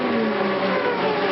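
Indy 500 race cars from the 1995 race scream past at over 215 mph heading into turn one, a loud, continuous high-pitched engine whine that drops in pitch as a car passes.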